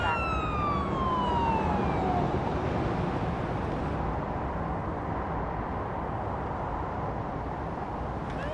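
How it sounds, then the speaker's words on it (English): In a paramedic simulator video game, an ambulance siren wails in a falling sweep over loud, continuous engine and road rumble from the vehicle. "Use the siren as needed."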